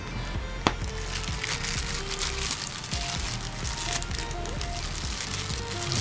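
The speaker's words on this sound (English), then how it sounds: "So I'm gonna unwrap again." Packaging around a photo prism is unwrapped at close range, giving a steady crinkly rustle with small crackles and one sharp snap near the start, and no speech.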